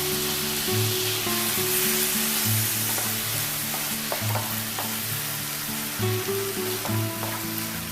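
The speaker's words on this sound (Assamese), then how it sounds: "এতিয়া মই পিঁয়াজৰ পেষ্টখিনি তাত দি দিলোঁ" Onion paste sizzles and fries in a hot pan while making paneer malai kofta, a close, steady crackling hiss with occasional stirring scrapes throughout.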